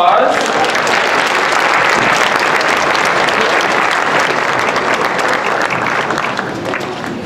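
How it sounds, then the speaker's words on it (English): Loud, dense audience applause fills a Christmas concert hall at a Christian high school, steady for several seconds before easing slightly toward the end. "Give him a round of applause."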